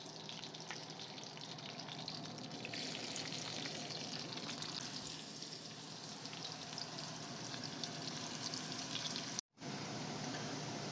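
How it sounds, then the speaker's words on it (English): Onions fry in oil for a homemade beef chili paste, a steady dense sizzle and crackle running close and unbroken, interrupted only by a brief dropout near the end. "got them onions cooking away"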